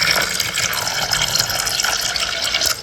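Water pours steadily into a tarantula's water dish, a continuous bright splashing trickle heard close and fairly loud with no talking.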